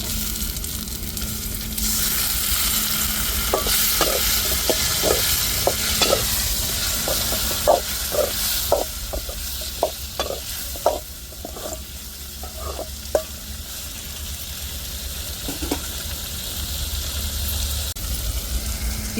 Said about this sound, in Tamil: இப்போ தக்காளி மிளகாயை சேர்த்துருவோம்